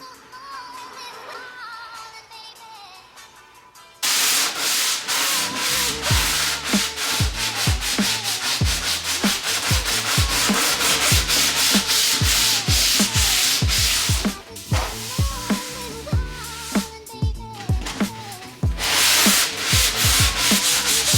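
Quiet background gives way to loud, rhythmic sanding strokes rasping against body filler on a BMW E28 car body, continuing steadily with brief pauses.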